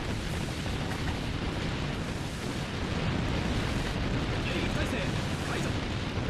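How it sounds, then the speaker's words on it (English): Dense, continuous barrage of booms and bursts from high-angle guns in the game Warship Gunner 2 Portable, explosions overlapping into a loud rumbling wash with no clear gaps, steady intensity throughout. "Alright, high-angle guns, go crazy."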